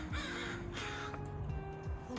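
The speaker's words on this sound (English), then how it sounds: "The bird's so loud." Crows caw loudly and repeatedly close by, several harsh calls spread across the moment with no one talking.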